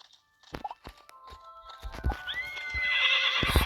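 A horse on an outdoor ride clip-clops at a trot with quick, uneven hoof beats, then whinnies loudly near the end while a rider murmurs softly.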